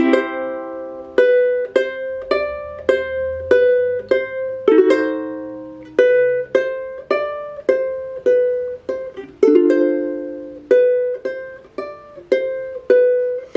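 A solo ukulele plays the first six measures of a song, plucking a bright melody over chords with an evenly spaced, lilting rhythm and a brief low bass slide early on, close and clear with no talking.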